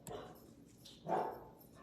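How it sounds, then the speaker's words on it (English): A single short dog bark, somewhat distant and faint, over quiet room noise. "My dog's barking, sorry."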